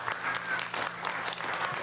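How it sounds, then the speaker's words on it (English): A crowd on a promotional movie bus tour claps in appreciation, a lively burst of close, dense applause sustained throughout the short moment with no talking over it. "Let's give them a round of applause."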